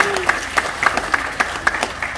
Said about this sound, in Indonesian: Tepuk tangan buat Bapak Ibu ya.